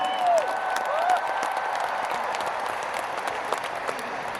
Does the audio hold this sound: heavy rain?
no